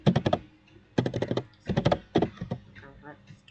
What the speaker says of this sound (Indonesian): lalu kita akan ketik